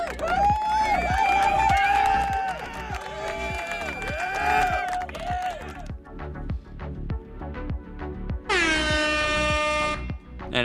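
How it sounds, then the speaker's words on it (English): A long, loud air horn blast rings out alone near the end, after a stretch of lively music with rhythmic beats. "And an air horn just to celebrate"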